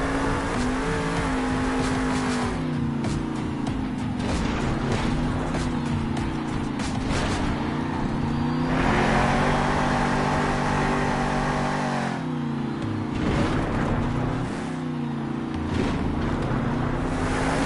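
Monster truck engines roaring inside a Monster Jam stadium, a loud sustained rumble that rises and falls with revving over a long stretch, no talk.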